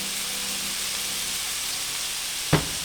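Potatoes go into a hot pan with chorizo and sizzle steadily in an even, loud hiss. A brief clunk sounds near the end.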